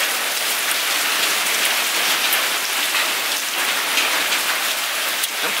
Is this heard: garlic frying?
no